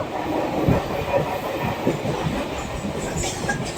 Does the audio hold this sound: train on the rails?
yes